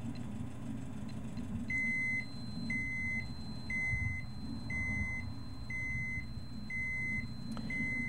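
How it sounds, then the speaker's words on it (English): A Geiger counter set on radioactive ground in post-Fukushima Japan sounds its alarm: seven steady, evenly spaced high beeps about a second apart over a low background rumble. "The level of radiation in the ground passes the Geiger counter's alarm threshold, and the alarm starts to go off."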